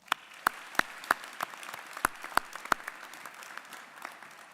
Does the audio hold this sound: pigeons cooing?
no